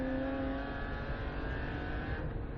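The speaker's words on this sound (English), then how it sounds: "Through goes the 242 BMW M4." The #242 BMW M4 race car streaks past on track during an endurance race, a steady engine drone with a whining tone, mid-distance and continuous, with no voices.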